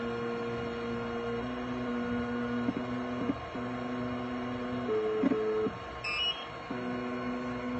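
An office printer runs steadily with a mechanical hum and tonal whir, printing chroma reader results in a clinic setting, with a brief electronic beep-like shift partway through; no talking.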